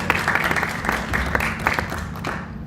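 An audience at a university campus speaker series gives a short burst of applause, dense close clapping that stays steady and then tapers off at the end.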